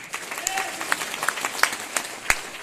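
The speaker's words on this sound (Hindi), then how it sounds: "एक बार गुरुदेव रामकिशन जी के लिए जोरदार ताली" Scattered applause from a seated audience at a business gathering honoring a guru, thin and fairly faint with separate claps standing out over a murmuring crowd.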